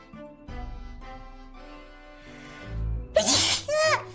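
A loud, sharp sneeze bursts out near the end, preceded by a quieter sharp intake, after a stretch of low background voices and clatter.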